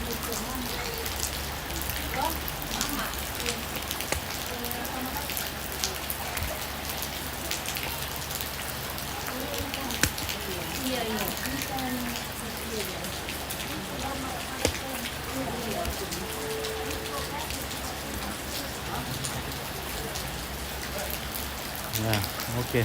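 Steady rain falls outdoors during a funeral burial, a dense, constant patter on surfaces that never lets up, with voices faintly audible beneath it.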